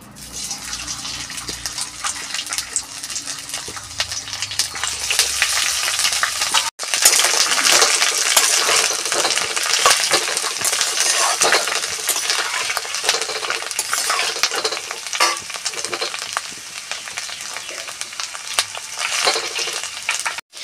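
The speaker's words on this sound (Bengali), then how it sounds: "ফুলকপিগুলো ফ্রাই করে নেব।" Cauliflower frying in a pan, a loud, continuous crackling sizzle heard up close for a long stretch, briefly interrupted once, with no talking.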